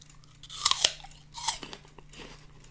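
Crisp crunchy bites into a juicy red apple, followed by close, wet chewing with a few sharp crunches spaced over a couple of seconds, near the microphone in a quiet room.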